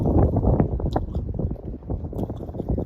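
Strong wind buffets the microphone outdoors in Australia on a sunny cold day, a loud continuous low rumbling roar with gusty bursts.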